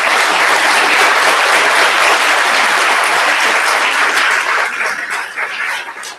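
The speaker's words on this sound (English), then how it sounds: "let's give him a round of applause" Audience applause at a school board meeting, a dense burst of clapping from a crowded room that holds steady for several seconds, then thins into scattered claps and stops.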